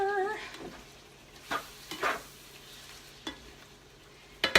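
Shrimp sizzling in a pan, a low steady frying hiss broken by a few sharp stirring clatters, close and fairly quiet.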